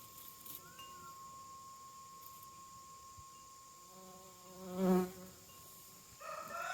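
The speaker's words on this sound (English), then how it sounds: "There's a bee." A bee buzzing in a garden, a faint steady drone that swells briefly as it passes near, set against a quiet outdoor background with no talking.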